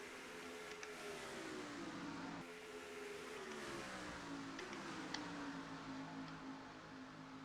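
Race car engines in a Daytona racing video game, a steady high drone that climbs in pitch through repeated upshifts, with three clear gear changes, several cars blending together at a faint, even level.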